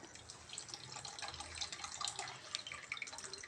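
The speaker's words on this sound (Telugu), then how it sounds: "చింతపండు పులుసుని పోసేయాలన్నమాట ఇందులో" Soaked tamarind pulp juice is poured into a stuffed brinjal curry mixture, a soft trickling, dripping liquid sound that stays fairly quiet and unbroken throughout.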